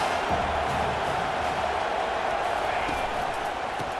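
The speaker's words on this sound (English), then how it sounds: "Decibels rising as the crowd gets behind this defense on 3rd down." Stadium crowd roaring steadily in a college football video game, Auburn against South Carolina, as the defense lines up on third down; a dense, continuous wall of cheering noise at steady loudness throughout.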